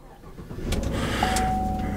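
A pickup truck engine cranks and catches, then settles into a steady low idle, close and fairly loud.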